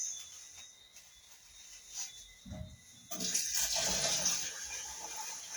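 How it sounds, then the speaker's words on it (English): Rice being washed in water, quiet faint swishing at first, then a louder gush of running or poured water from about three seconds on, with some splashy churning. "Wash my rice."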